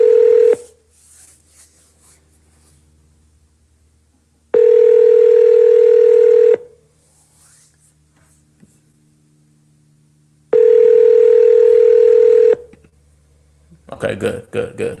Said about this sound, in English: Can you hear the ringing now?